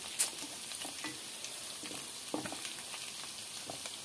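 Chicken fry sizzling in a pan on a home stove, a steady crackling hiss with scattered pops and a few stirring scrapes throughout, close and fairly quiet.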